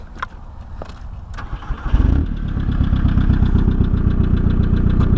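A Volkswagen Passat half car with its 1Z diesel engine starts up, then settles into a loud, steady idle with a tappety, rapid clatter running throughout, close by.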